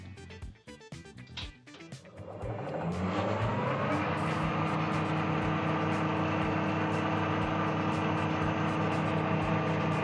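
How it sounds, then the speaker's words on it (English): A Colchester Master round-head lathe runs at its slowest speed with its change gears turning, a steady mechanical whirr and hum that starts after a few seconds of clunks and holds loud and even to the end. "So we'll flick the machine on. I've got it set at the slowest speed at the moment, just so we can see the gears turning."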